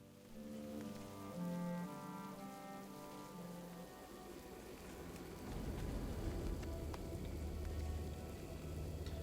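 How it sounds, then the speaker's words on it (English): Steady rain pours down in a World of Warcraft zone, the Krasrang Wilds, a continuous hiss of drops on surfaces that swells louder in the second half, with soft tonal game music underneath and no talking. "it's just raining in a world"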